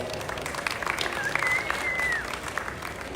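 Audience at a gaming convention recap panel applauding, a sustained patter of clapping from a crowd with some voices mixed in, moderately loud and continuous.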